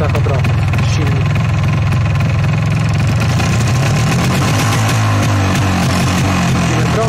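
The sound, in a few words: MZ ETZ250 motorcycle engine held at 3000 rpm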